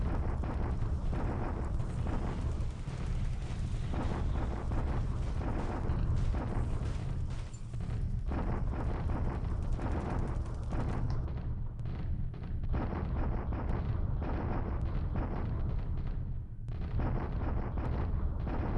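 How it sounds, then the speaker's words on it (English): Continuous rumbling artillery bombardment in the video game War in the Pacific, a dense, steady roar of distant blasts that rolls on with little change and no talk over it. "Bombardment chunking."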